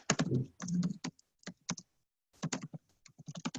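Typing on a computer keyboard: bursts of clustered clicks and key taps come in irregular groups separated by short silences, close and fairly loud, with no talk.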